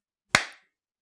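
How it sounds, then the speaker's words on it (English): One sharp, loud clap from a group of hands striking together at once for audio sync, a single crisp burst that decays quickly into silence. "let's do a quick clap sync together to make our lives easier in the future"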